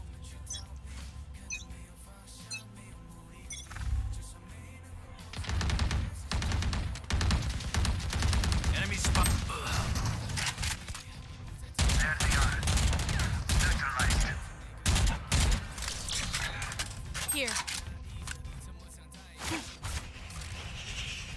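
Rapid bursts of turret gunfire in a cosy farming-life video game, loud clustered volleys repeating through most of the stretch after a quieter start, with a voice speaking briefly.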